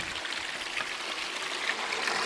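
Water rushes steadily through a small homemade high banker sluice box, a continuous close-up wash of flowing, splashing water with no talk over it.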